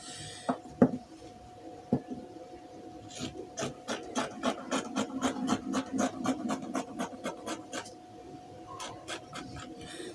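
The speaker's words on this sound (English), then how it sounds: "Let me just quickly cut this out so you can see the shape I have." Scissors cutting fabric for a pair of shorts, a quick run of rhythmic rasping snips, close and fairly quiet, with a few isolated snips before and after the run.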